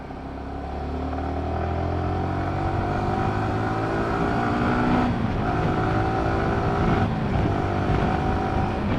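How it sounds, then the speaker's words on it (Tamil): A Yamaha motorcycle on a highway, its engine revving up under the throttle with rising pitch, close and loud, with a gear change and continuing acceleration amid wind noise. "கைஸ் வண்டியோட அந்த த்ராட்டல் சவுண்ட் எப்படி இருக்குது பார்த்தீங்களா?"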